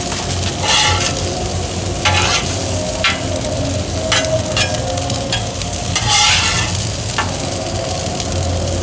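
Potatoes fry in grease on a camp stove, a steady close sizzle with intermittent scraping and stirring clatter from a utensil in the pan, no talking.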